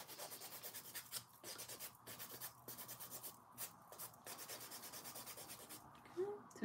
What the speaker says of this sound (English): I'm just filing my edges to bring back that sharper stiletto shape